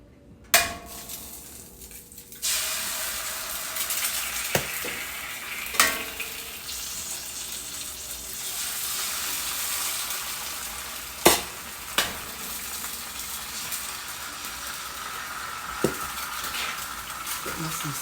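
Eggs fry in a pan alongside bacon, sizzling steadily and close by, with sharp clanks of utensils against the pan every few seconds.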